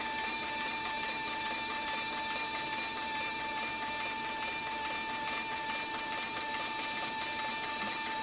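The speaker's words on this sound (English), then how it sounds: "As you can see, the machine just takes off and runs very smooth." A CB4500 industrial cylinder-arm sewing machine with triple feed runs at steady high speed, giving a constant, even whirring hum with a fast mechanical stitching rhythm. The sound is close and continuous, with no talk.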